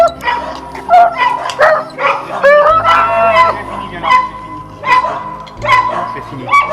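Fighting dogs barking and whining in a dog training session, with repeated loud close barks and high whines in uneven bursts, plus some yelping.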